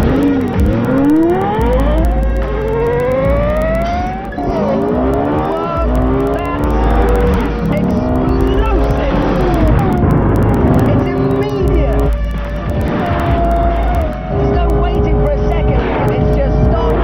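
A Lexus LFA supercar in Sport mode accelerates hard, its high-pitched engine climbing through repeated rising gear sweeps with brief shift dips, loud and close, with someone speaking over it at times.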